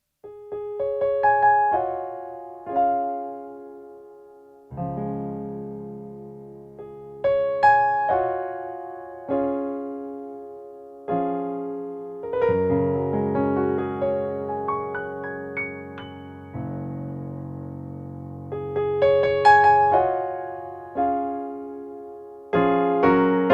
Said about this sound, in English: that's the sound of a Yamaha CX series studio piano